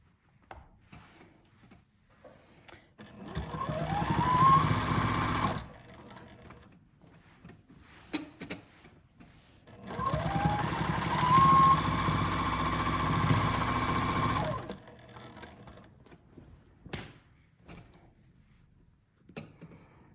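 A sewing machine stitches in free motion quilting, running in two sustained bursts of rapid mechanical whirring separated by quiet pauses with faint handling noises.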